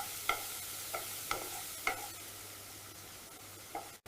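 Onion, ginger garlic and cashews sauté in butter with a bay leaf for paneer butter masala: a faint, steady sizzle with soft, scattered spoon-stirring scrapes recurring every second or so, no talking.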